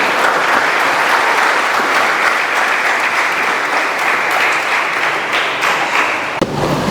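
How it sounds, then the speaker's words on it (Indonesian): A church congregation applauds at a Christmas service, loud continuous clapping that holds steady throughout with no voices on top. "Mari kita tepuk tangan untuk Tuhan dulu"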